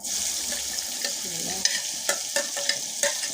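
Onion sautéing in oil in a pan while cooking a freekeh tagine, a steady crackling sizzle with several sharp clicks of a utensil against the pan toward the end.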